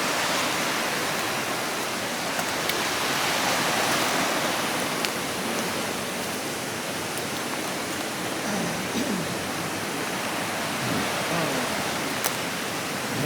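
Creek water flows steadily in a wooded meadow, a continuous broadband rush close by with no speech and only a few faint clicks.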